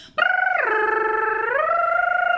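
A person imitates a penguin's courtship call, a sustained nasal, buzzy tone that shifts pitch down then back up in steps.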